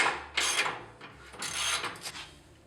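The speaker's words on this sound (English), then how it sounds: "we're going to loosen the 22mm bolts, which are holding the control arms on" A ratchet works loose the 22mm bolts that hold the lower control arms on a 2019 Toyota Tacoma, giving rough mechanical clicking and grinding bursts in two main swells, fairly close and with no talk.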